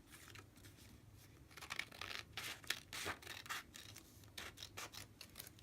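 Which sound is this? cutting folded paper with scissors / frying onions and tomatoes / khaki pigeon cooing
cutting folded paper with scissors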